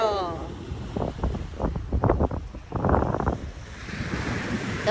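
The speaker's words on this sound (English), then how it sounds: "and the ocean breeze, perfection" Ocean surf and a sea breeze at Orchard Beach, Maine: steady broadband wash with gusty wind buffeting the microphone and swelling rushes of waves, loud and close, with faint voices mixed in.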